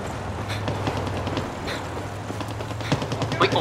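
Sustained automatic gunfire in the first-person shooter Far Cry 6 during a camp assault, rapid bursts of close, loud shots cracking in quick rhythm with scattered louder reports near the end.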